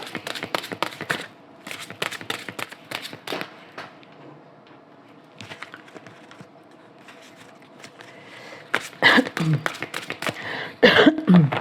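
Coughing, a few short dry coughs and throat clearing mixed with card-shuffling clicks and soft rustling, close by, with someone talking quietly in between.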